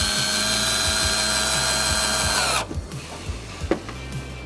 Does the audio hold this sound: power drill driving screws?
yes